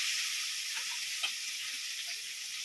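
Marinated pieces frying in mustard oil, a steady, even high sizzle and hiss with one tiny pop, heard close and faint, without any talking.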